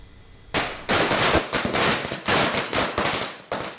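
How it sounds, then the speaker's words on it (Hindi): Diwali night fireworks and firecrackers in Delhi NCR crackle in loud, dense rapid-fire bursts, overlapping popping volleys with brief gaps between them. "पाबंदी के बावजूद दिवाली की रात आतिशबाजी होती रही"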